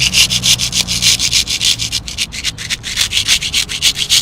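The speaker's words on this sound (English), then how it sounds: "we're going to scrape just to make sure that the sealer has broken down." A scraper drags over a surface to lift sealer coating broken down by power stripper, a rapid run of close, loud, rasping strokes in a regular back-and-forth rhythm, about five per second, alone.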